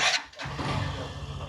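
A Hero Glamour X 125 motorcycle engine starts with a short crank and catches into a steady, close idle rumble.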